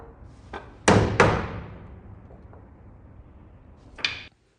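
A lump hammer taps a 35mm wooden block in against a wall stud while a wall is being straightened. Two sharp, heavy thuds fall close together, and a third strike follows a few seconds later, all loud and near with no speech.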